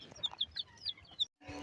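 Young chicken chicks peep in quick, high-pitched chirps, several in a row, close by and fairly soft, then a short silence and a burst of faint rustling.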